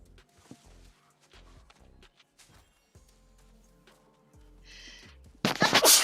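A single loud, close sneeze bursts out near the end after a stretch of quiet game sounds and soft clicks.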